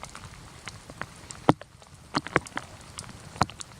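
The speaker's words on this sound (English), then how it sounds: "now raindrops are hitting pretty hard" Heavy raindrops smack a camp sheltered under a tree, irregular sharp taps landing close over a soft rain hiss, a few louder hits standing out.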